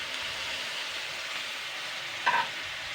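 Parboiled fish roe hits a hot pan of masala and fries with a soft, steady hiss, close and even throughout. A brief scrape of the spoon stands out near the end, with no talk.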